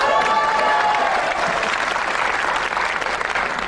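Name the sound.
studio audience applause on TV game show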